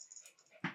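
A puppy gives a faint, brief whimper, then a louder sharp sound at the end of the short moment.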